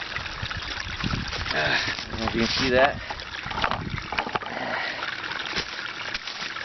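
Water swishes and splashes in a basin as dishes are washed outdoors at an off-grid RV with a hard homemade bar soap of lye, water and oil. Close, soft sloshing runs under a person talking.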